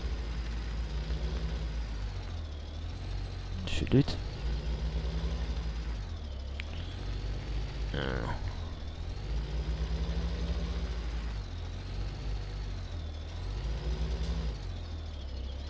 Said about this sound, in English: Now I have to get my truck inside.